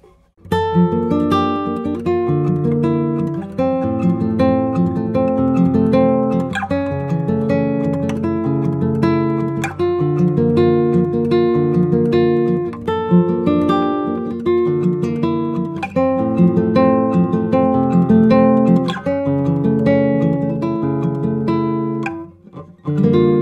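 Nylon-string classical guitar captured by a spaced AB stereo pair of aligned microphones, playing a continuous flowing passage of plucked notes and chords at steady loudness, alone with no voices, ending in a brief fade.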